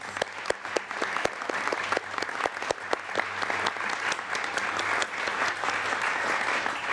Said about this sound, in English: Let's give all of our panelists another round of applause.